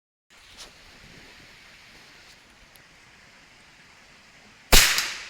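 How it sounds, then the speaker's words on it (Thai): Soft, steady rushing water flows in the background, ending with a sudden loud burst of noise. "มาหานอนฟังเสียงน้ำไหล"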